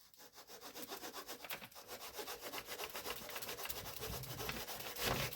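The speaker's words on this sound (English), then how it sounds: "trim our wing tip pieces here to length." Wooden wing tip pieces of a Flying King model plane being sawn to length with a small hand saw, rapid steady back-and-forth rasping strokes, close and fairly soft, with no talk.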